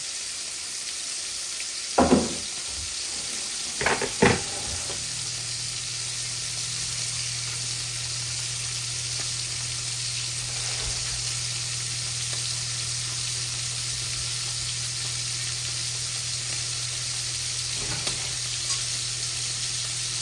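Koi fish fry in a pan with a continuous close, even sizzle. A few sharp utensil knocks come early, and a low hum runs underneath. No one speaks.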